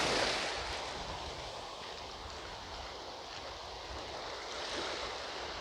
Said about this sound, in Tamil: பாருங்கள் கடல் அலைகளை.